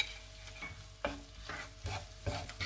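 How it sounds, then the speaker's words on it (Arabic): Rice cooking with onion, ginger, salt and spices in a pot, stirred with a spoon in several distinct scraping strokes over a soft sizzle, close and moderately quiet. "نحرك باش من بعد غادي نضيف الخضرة."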